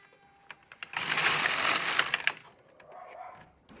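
The carriage of an LK150 knitting machine slides across a row knitting tuck stitch. It makes one loud, close, rushing mechanical sweep lasting about a second, with a few soft clicks before and after.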